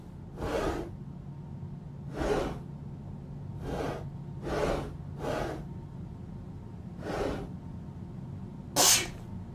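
A string of about seven short, breathy sneezes, spaced a second or so apart, rings out over a low steady hum in the road-trip video game Open Roads, the last one sharper and brighter.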